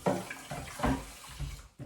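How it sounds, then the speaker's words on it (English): Tap water runs steadily into a kitchen blender jar to rinse it after mixing vegan pancake batter, a continuous splashing pour with uneven surges, fairly quiet and close, no talking. "I always immediately put water in the blender so that it does not dry."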